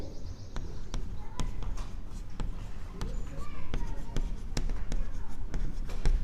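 Writing by hand during a twelfth-grade biology lesson on human blood groups, irregular sharp taps and scratches of a marker or chalk on a board, close and heard over a low rumbling background.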